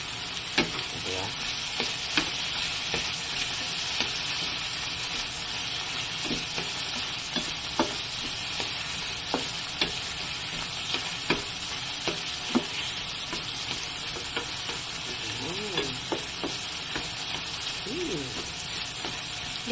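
Garlic and tomato fry in a pan for a simple tuna dish, making a steady, close sizzle with scattered louder crackles and occasional stirring scrapes.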